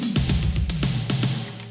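In a second pre-chorus of a city pop track, a short drum fill thumps across low toms with a handful of bright, evenly spaced snare and cymbal strikes over a held bass tone, loud and upfront in the mix.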